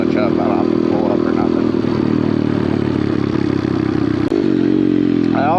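Small pit bike engine buzzing hard during wheelie practice, a loud steady high-revving drone with brief dips and rises, close to the microphone, with some wind clatter and voice sounds mixed in.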